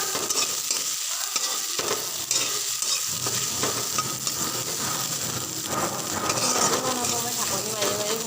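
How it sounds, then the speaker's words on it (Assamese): Okra frying in a pan sizzles steadily up close while a utensil stirs and scrapes through it in irregular strokes, with no talking over it. "তাৰপিছত এইখিনি আৰু অলপ সময় ভাজি ল'ব লাগিব"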